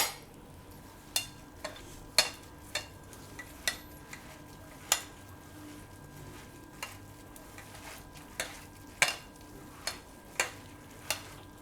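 Potato uttapam batter is mixed by hand in a bowl, giving a series of soft, sharp taps and squelches at irregular intervals about every second. The sounds are faint and quiet, with no talking.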